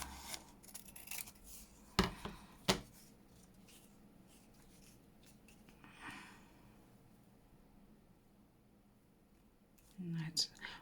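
Scissors cutting a paper doily in half, producing a few short, sharp snips close up, with soft whispered speech and quiet rustling in between.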